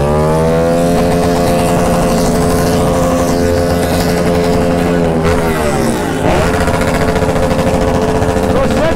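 A BMW S1000RR motorcycle engine runs loud and close, a dense buzzing drone whose pitch holds steady, dips sharply near the end, then climbs again as the rider revs back up.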